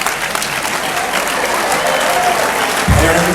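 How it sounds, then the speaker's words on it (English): Parents and audience clap steadily at a graduation ceremony, dense and loud applause filling the space with no talk over it. "Parents are applauding"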